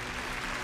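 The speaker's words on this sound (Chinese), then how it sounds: "我们掌声鼓励一下这位阿姨" Studio audience applause at a Chinese health show, a brief burst of dense, steady clapping.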